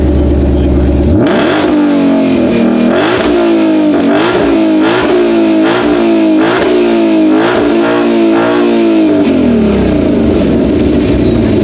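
A loud 2020 Shelby GT500 Mustang engine starts up and revs repeatedly, pitch climbing and falling in rhythmic bursts, close and dominant throughout, before settling back down.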